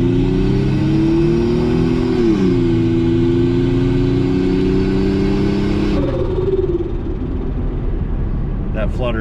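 A turbocharged Toyota 5VZ-FE engine with no blow-off valve pulls hard with a loud, close, steady drone. It drops off when the throttle lifts, and a short fluttering chatter follows near the end.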